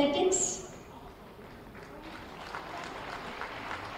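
An audience applauds an award presentation to a veteran athletics competitor at the Uttar Pradesh Day inauguration ceremony. The clapping is a soft, steady crowd patter that continues throughout, with a voice speaking over it.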